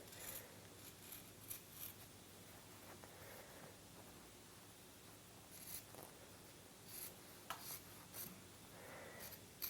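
Quiet, close-up snipping and rubbing sounds from scissors working through fabric, several soft cuts spread out with gentle rustling between them.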